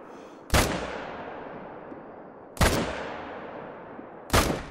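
Three loud rifle shots ring out in the hunting video game The Hunter: Call of the Wild, each a sharp crack trailing off into a long echoing tail, spaced about two seconds apart.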